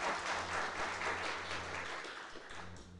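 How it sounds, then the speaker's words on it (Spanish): A church congregation claps in praise, a soft, fairly distant burst of applause that fades slightly toward the end. "Démosle un aplauso al Señor."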